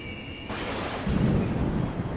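Heavy rain storm with a rolling rumble of thunder swelling in, loud and continuous, used as a sound effect in a Hindi horror story narration.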